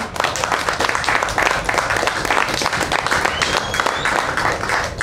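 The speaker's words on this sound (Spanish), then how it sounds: "Les pido un aplauso." Loud, sustained audience applause at a youth political gathering, a dense mass of clapping hands close by that stays strong from start to finish, with faint background voices mixed in.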